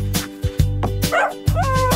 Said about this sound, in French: le chien aboyait doucement et joyeusement